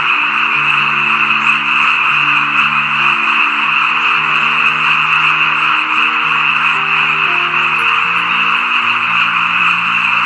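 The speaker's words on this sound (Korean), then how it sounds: "개구리들이 엄청나게 울어대는 개구리 소리입니다" A dense chorus of frogs in a freshly planted rice paddy croaks continuously, many overlapping calls forming a loud, steady pulsing drone with no pauses.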